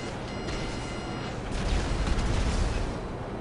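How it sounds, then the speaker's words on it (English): Rumbling explosions in the video game Grand Theft Auto V, a dense broadband roar that swells louder partway through with no speech. "The explosions on this game is amazing."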